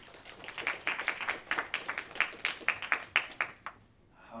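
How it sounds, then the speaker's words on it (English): Small conference audience at closing remarks claps for itself, a modest, fairly sparse run of distinct claps lasting about three and a half seconds before dying away into quiet. "So give yourself a round of applause for sitting through so much stuff."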